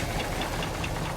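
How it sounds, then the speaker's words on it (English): An old AMC engine in an FSJ truck runs with a wobbling pulley, giving a steady, diesel-like knocking rumble that stays even and unbroken, no talking. "it's got a pulley wobbling around"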